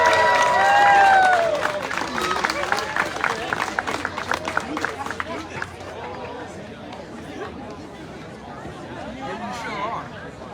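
Applause and crowd chatter fill a Neighborhood Awards ceremony as an Arts and Culture Award for Community Pride is presented; the clapping starts fairly loud over brief music, then thins into steady hubbub and scattered claps.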